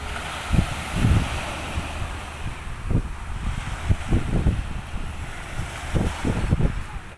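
Sea surf washes against the shore with gusty wind buffeting the microphone, low thumps of breaking water recurring irregularly.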